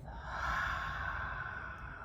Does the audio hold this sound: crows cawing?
no